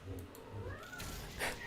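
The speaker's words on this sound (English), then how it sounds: "I don't know if you can hear my cat in the background" A pet cat meows faintly in the background, with a couple of soft drawn-out meows over low room noise and rumble.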